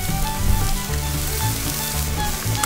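Whole beef chuck flap (salchisal), a thick roughly 2.5 kg piece, sizzles steadily on a hot stone, a dense continuous frying crackle with a slight surge near the start and no talking.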